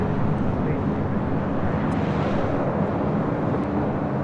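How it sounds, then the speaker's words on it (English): An Airbus A320 on its takeoff roll down runway 24 left at LAX gives a steady, loud, broadband jet roar that holds evenly throughout without breaks. "that A320 now rolling down 24 left."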